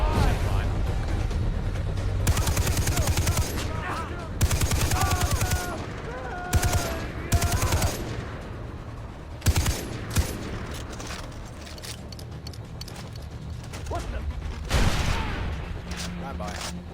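Gunfire in the video game Far Cry 3: repeated bursts of automatic shooting and single shots, loud and close, recurring across the whole stretch with brief pauses between volleys, with game sounds mixed in.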